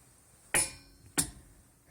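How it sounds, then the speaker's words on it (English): A torque wrench tightening a wheel lug nut to 85 foot-pounds gives two sharp metallic clicks about half a second apart, close by and crisp against a quiet background, with no talking. "So I'm going to tighten this lug nut until it clicks."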